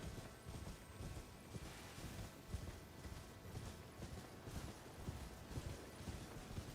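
Horse hooves clip-clop at a steady walking rhythm in the Elden Ring video game, soft, even beats repeating throughout over a quiet background.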